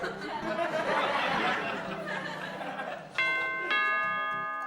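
A doorbell chimes twice in two clear ringing tones, following a stretch of laughter and chatter in a room.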